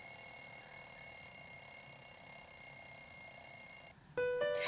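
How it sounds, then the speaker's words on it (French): A morning alarm clock set for 9 a.m. rings with a steady, continuous electronic tone held for about four seconds, then cuts out briefly before a few short, higher beeps follow; no one speaks. "je programme mon réveil pour 9 h"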